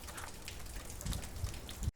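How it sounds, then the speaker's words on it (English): Heavy summer rain pours down outdoors in Ireland, a dense steady hiss of drops with heavier splashes building near the end before it cuts off abruptly. "This is such a typical Irish summer, really sunny 2 minutes ago, and now it's chucking it down."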